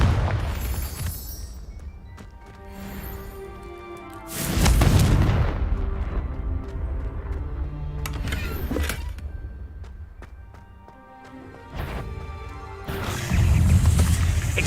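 Confringo blasting-spell explosions in Hogwarts Legacy, several deep booming blasts spaced apart with rumbling tails, loud and close, over a low game soundscape.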